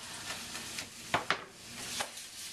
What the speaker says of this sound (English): So while those onions are cooking